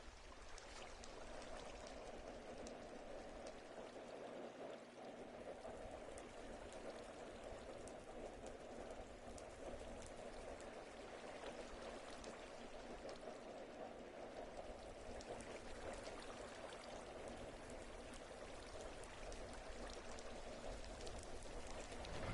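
Water pours down from a floating blanket of water source blocks in the Minecraft video game, a faint, steady rain-like rushing that continues unbroken with no voices.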